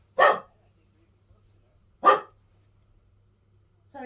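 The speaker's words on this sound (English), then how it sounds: "sorry about my dog." A dog barks loudly indoors in two separate sharp bursts about two seconds apart, likely at a postman arriving, with a third bark starting at the end; low hum between barks.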